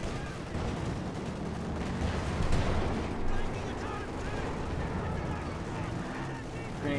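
Gunfire and artillery booms from a Puma armored car and other units in Company of Heroes 2, a dense continuous battle din with repeated shots, heard beneath steady commentary.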